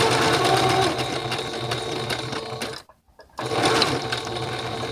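A sewing machine stitches fabric for a Christmas mug rug, its steady rapid whir running close and loud, broken by one brief pause before the stitching resumes.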